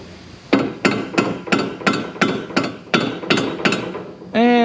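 A rubber mallet drives a bolt into a Miata lower control arm with ten evenly spaced, sharp knocks, close and loud, ending in a brief ringing metallic tone.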